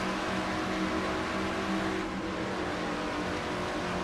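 Race car in a NASCAR-style sim racing video game at the Brickyard, its V8 engine held near 8,500 RPM into turn one, a loud continuous high-revving drone with steady pitch and no voices.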